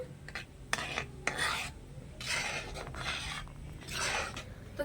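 Milk curdled with lemon juice being gently stirred by hand to make chhana, a close scraping, rubbing sound that comes in several sweeps with short pauses between them, with no talking.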